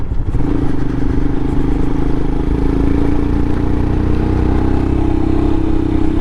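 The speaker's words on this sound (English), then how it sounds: "Himalayan just chugs up this stuff" A Royal Enfield Himalayan motorcycle chugs uphill, its engine giving a loud, steady, low thumping drone with constant wind noise, close and continuous throughout.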